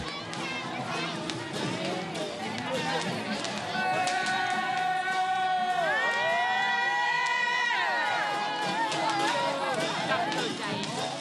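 A dense crowd during a Buddhist temple procession fills the air with overlapping voices, shouts and children's cries, with rising and falling calls and whistle-like tones over the steady murmur.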